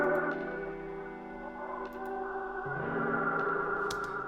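A sample resampled through a Soundtoys effect rack preset plays as a processed, chorused and echoing texture with sustained tones, a shift in pitch midway and small ticking accents, moderately quiet and without speech.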